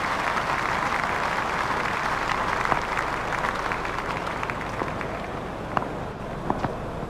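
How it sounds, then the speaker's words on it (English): Cricket crowd at an India versus Australia one-day match standing and applauding after a boundary, a steady dense roar of clapping and cheering filling the stadium with a few sharper claps popping out near the end. "The crowd are standing and applauding."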